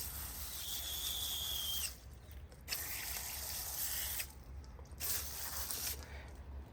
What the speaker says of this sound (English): take my hose and water it in